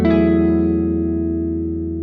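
A single distorted electric guitar chord through an AmpliTube 5 amp simulator with gain rings out, thick and saturated, sustaining and slowly fading with no playing after the strike.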